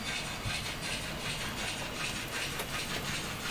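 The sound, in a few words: model railway trains running on track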